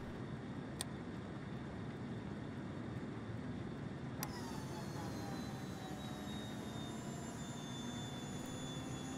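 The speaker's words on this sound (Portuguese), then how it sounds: "É aquele jato ali tá zoando mesmo" An outdoor jet aircraft engine gives a loud, continuous broadband roar, with a high thin whine that slides slowly in pitch partway through, heard on its own.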